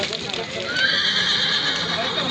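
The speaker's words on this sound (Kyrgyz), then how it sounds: "базарга мына капкара болгон чоң бээ кирип калыптыр." A horse neighs in a long, loud whinny at a crowded livestock market near Bishkek, with a steady roar of voices and market bustle all around.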